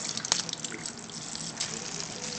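Steady rushing of water running through a sink or pipes, a continuous hiss with small splashy fluctuations, fairly close.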